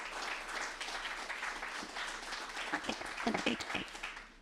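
Applause from a gala audience, dense clapping blended with background murmur, growing a bit more distinct toward the end.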